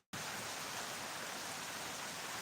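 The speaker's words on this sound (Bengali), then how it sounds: "এবং বৃষ্টির আওয়াজ আপনারা শুনতে পাচ্ছেন" Steady rain pours down in a dense, even hiss that starts abruptly and holds without any voices.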